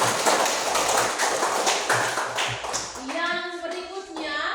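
Students in a classroom clap for a group's presentation, a brisk burst of hand claps that fades out as children's voices and chatter take over near the end.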